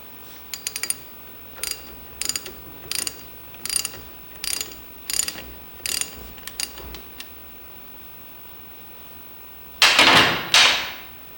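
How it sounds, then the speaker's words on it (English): An adjustable wrench working a loose differential drive pinion nut, producing a series of about eleven short, sharp metallic ratcheting clicks in an uneven rhythm, then a louder, longer scraping burst near the end, close and with no voices. "what actually works a little better, is an adjustable wrench to hold it in place"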